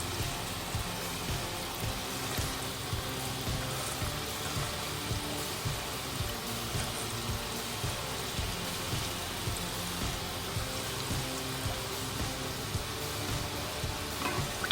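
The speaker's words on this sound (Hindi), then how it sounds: "इनको पलट देंगे। हल्की ब्राउन होने तक सेकेंगे।" Kanji vada fritters sizzle steadily in hot oil as they fry to light brown, a dense, even crackle and hiss holding at a constant level throughout with no voices.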